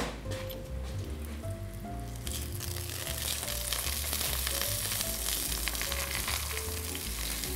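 Eggplant slices frying in a pan, a continuous close crackling sizzle that grows denser after a couple of seconds, with soft tonal music playing underneath.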